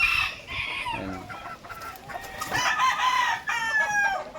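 Kanawayon white streamer chickens cluck and a rooster crows close by, the calls overlapping in a busy breeding coop chorus; a person says a single word briefly.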